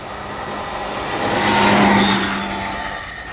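A 1970 BSA Ariel 3 moped engine runs nearby with a small, buzzy drone that swells as the revs rise, peaking in the middle before easing back down. No voices are heard.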